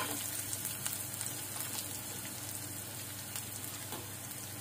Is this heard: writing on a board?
no